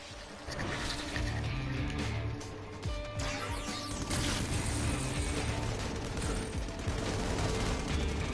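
Turret firing in a video game, a continuous dense mechanical rattle of rapid shots at moderate loudness that runs steadily through the whole stretch amid other game noise.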